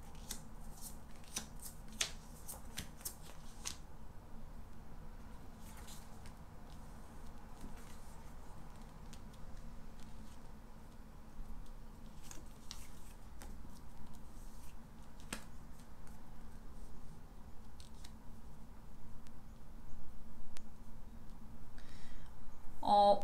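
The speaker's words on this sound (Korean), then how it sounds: "선택해 주신 분들 카드 펼쳐보겠습니다." Tarot cards are spread out across a table in a sequence of soft sliding and shuffling sounds with light taps, quiet and close, with no talking.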